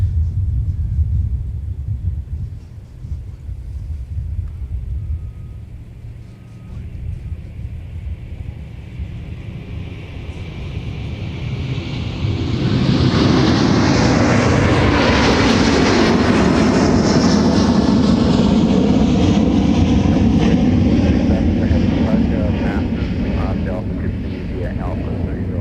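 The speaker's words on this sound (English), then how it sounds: "And on the roll is our Dublin departure. A330-200, former Northwest." A former Northwest Airbus A330-200 rolls for takeoff toward Dublin at Minneapolis airport. Quiet rumble builds into a loud, swelling jet roar about halfway through, with a rising whine that then holds strong. A voice talks over the early part.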